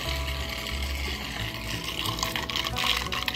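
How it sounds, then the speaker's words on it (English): Water runs into a backyard swimming pool being refilled, a steady splashing gush with a constant low churn that grows slightly busier toward the end, no talking. "I'm still adding water into the pool"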